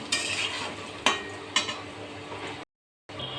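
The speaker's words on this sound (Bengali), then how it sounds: "এবার পনিরটাকেও আমি ভেজে নেব" Paneer frying in a mix of refined oil and ghee in a kadai gives a steady sizzle. A few sharp clinks of a utensil against the pan sound through it, then it falls silent briefly before the sizzle returns.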